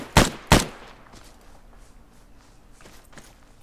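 AK rifle gunfire in a video game: two loud, sharp shots in quick succession open the clip, followed by faint scattered pops and low background noise.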